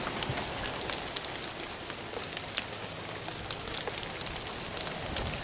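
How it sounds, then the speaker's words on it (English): Steady rain patters on a tarp stretched as a roof over a shelter structure, a dense, even hiss with scattered sharper drop taps throughout and no voices. "It's raining outside, but we are dry in here because we have at least the top protected"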